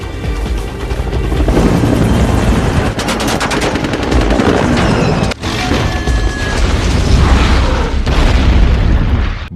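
A helicopter circling during an armed standoff in a crime action thriller, its rotor roar buried under loud, dense bursts of machine-gun fire and heavy booms that fill the whole stretch.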